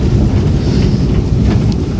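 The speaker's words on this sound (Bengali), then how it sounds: "এই দেখো আমরা ট্রেন এখন চড়ছি ট্রেন চড়ছি ট্রেন চড়ছি" Inside a moving passenger train on a family trip to Purulia, a loud, steady low rumble fills the space with rushing, wind-like noise across the mic and no clear voices.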